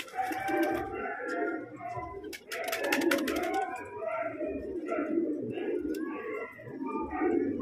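Pigeons coo in soft, repeated low calls, near and moderately loud, with sharp chirps from other birds and a burst of high rustling partway through; no clear speech.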